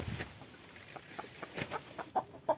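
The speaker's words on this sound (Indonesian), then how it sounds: "Antara ayam betina dan ayam jantan tentu saja berbeda." Free-range Joper chickens cluck softly in a pen, scattered short clucks and calls at moderate distance over a constant background hiss, with no talking.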